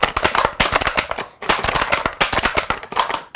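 Rapid bolt-action rifle fire, a quick series of sharp, loud cracks in tight bursts separated by brief gaps, heard close with no talking.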